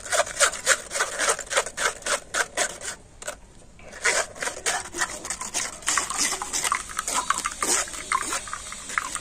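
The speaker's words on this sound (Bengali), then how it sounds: "আর এই ছাঁকনির মধ্যে লেবুর রসটা কিন্তু ছেঁকে নেব। আর এইভাবে চামচ দিয়ে আমি একটু নেড়ে নেব।" A spoon scrapes and rubs lemon juice through a large metal strainer in quick repeated strokes, close up, with a brief pause partway through.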